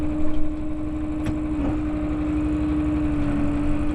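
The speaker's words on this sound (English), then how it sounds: "The ticking Hemi." A Hemi engine in a 3/4-ton gas pickup truck idles steadily nearby with a ticking fault, a constant low rumble with a faint rhythmic tick and a brief bump near the start.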